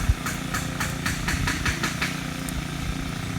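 A 2-stroke grass cutter engine runs steadily while cutting grass on a steep, muddy hillside, a close, rough continuous drone with faint rhythmic ticking over it.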